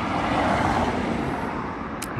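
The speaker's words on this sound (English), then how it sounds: "Apologize for the traffic" Road traffic rolls by in Big Bear, California, a steady moderate roar of passing cars and engines with a brief hiss near the end, no talking heard.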